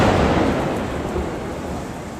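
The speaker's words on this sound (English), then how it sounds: "There was a big lightning storm, so enjoy that." Thunder from a big lightning storm rolls as a steady, loud, broadband rumble, rain-like hiss over it, easing slightly over a couple of seconds with no voices.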